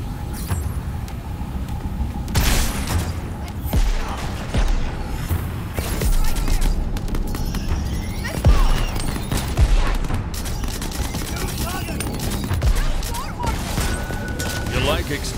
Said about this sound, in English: You like explosions?